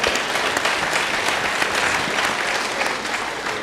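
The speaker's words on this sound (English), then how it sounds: "A round of applause for ourselves, right?" A conference audience applauds steadily throughout, a dense, even wash of many hands clapping at close range with no pauses or talk.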